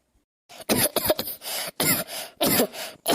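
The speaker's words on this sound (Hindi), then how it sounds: "उसके बाद खांसे लगी, का बात हो गई? खांसी आवत है का?" A woman coughs repeatedly, a series of harsh, close bursts in irregular rhythm with short gaps, loud and without any talk.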